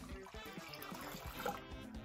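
Milk and heavy whipping cream poured into a cooking pot, a steady close liquid trickle running for about two seconds with small splashy pulses.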